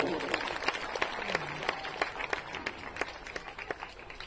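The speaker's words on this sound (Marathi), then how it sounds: "एकदा जोरदार टाळ्या" Applause from an audience at a 'Beti Bachao, Beti Padhao' certificate distribution ceremony, heard as a steady run of hand claps with sharp individual slaps standing out, moderately loud and continuing throughout.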